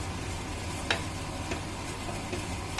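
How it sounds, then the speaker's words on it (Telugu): Chana masala with kasuri methi and chopped coriander is stirred in a pan, a low steady bubbling sizzle broken by a few light spoon scrapes, close and fairly quiet. "దీనంతటినీ ఒకసారి బాగా కలుపుకొని"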